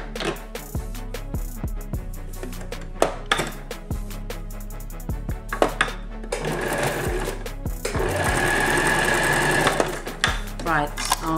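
A sewing machine stitches a strip of a jacket in quick stop-start bursts, then runs steadily for a few seconds, close and loud, with a small clink now and then.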